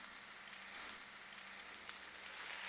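Meat sears in a hot pan with garlic, giving a steady, quiet sizzle and crackle that holds evenly throughout, with no talking over it.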